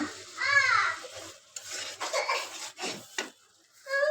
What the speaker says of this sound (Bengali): আমি মশলাটা কষাই নিতেছি